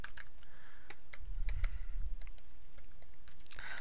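Someone types a web address on a computer keyboard: a steady run of crisp, close key clicks with a short thump partway through. No one speaks.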